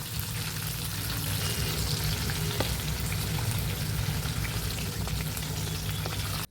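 Chicken pieces deep-frying in oil, a dense, loud and continuous bubbling sizzle that holds steady and close throughout before cutting off abruptly at the end.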